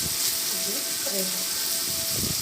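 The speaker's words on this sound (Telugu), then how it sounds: "టమాటాలు ఉల్లిపాయలు బాగా మగ్గాయి" Chopped tomatoes and onions sizzle steadily in a pan for curry, with a dense, constant frying hiss up close. Faint voice-like tones drift underneath.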